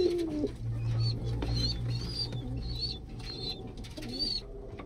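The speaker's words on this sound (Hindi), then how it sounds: "एक ये है भाई काला मद्रासी कबूतर।" Madrasi pigeons coo in low, steady murmurs throughout, with brief wing flaps and faint chirps layered over a busy loft background.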